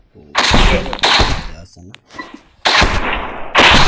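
Gunfire in the action game My Friend Pedro: loud sharp bursts of shots in several clusters, with someone talking excitedly over them between volleys.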